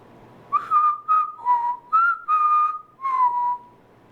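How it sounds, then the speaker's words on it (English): A person whistles a short tune of about eight clear notes, steady and close, with brief gaps between phrases. "I've been getting this whistle."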